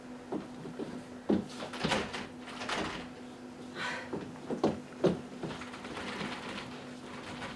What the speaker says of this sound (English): Why won't the front door open?